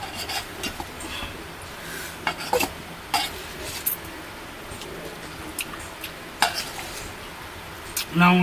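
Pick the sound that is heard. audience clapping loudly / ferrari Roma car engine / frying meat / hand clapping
frying meat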